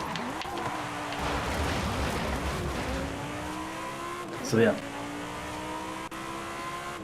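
A souped-up sports car drives through Mexico in Forza Horizon 5, its engine droning and shifting pitch as it accelerates, with a brief louder burst midway; someone talks over the engine.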